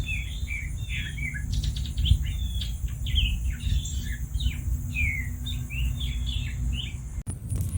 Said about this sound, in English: I hear the bird, but I don't see it.